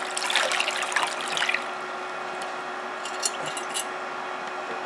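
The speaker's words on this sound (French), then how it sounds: "Anna, je vais vider l'eau" Water is poured out of a glass orchid pot, a splashy trickle and gurgle at the start that fades into quiet with a few faint drips and clinks afterward.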